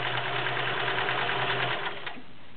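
A vintage Kenmore 1336 convertible free-arm sewing machine runs at a steady whirring, rattling pace close by, then slows and stops near the end.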